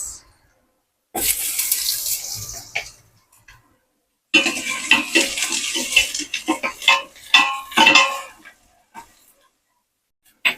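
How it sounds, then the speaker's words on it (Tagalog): Garlic and onion sauté in hot oil in a pan for spaghetti, giving two loud, sustained bursts of hissing sizzle separated by a short quiet gap, with no talking. "Lagyan na po natin ng ating bawang. Isabay na rin po natin ang ating sibuyas."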